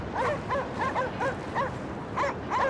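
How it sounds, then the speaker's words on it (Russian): A dog barks repeatedly in the Cryostasis: Sleep of Reason video game, a steady run of sharp yips and barks at moderate distance with no talk over them. "Ориентируюсь просто на лай собачки."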